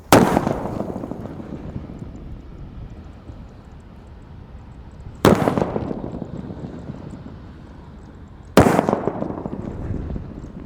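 Three paper-wrapped firecrackers go off one after another, each a sharp, loud bang followed by a long rumbling decay, spaced a few seconds apart outdoors with no talking.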